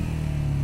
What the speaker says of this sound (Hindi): बहुत ही बढ़िया इंजन ब्रेकिंग